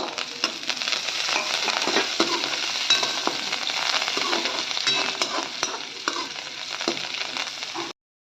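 Dal and peanuts fry in a pan for a rava upma premix, a steady close crackling sizzle with occasional stirring scrapes, then stopping abruptly near the end.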